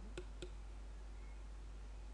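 Computer mouse clicking twice in quick succession, two faint, sharp clicks about a quarter second apart over a low steady hum, then quiet.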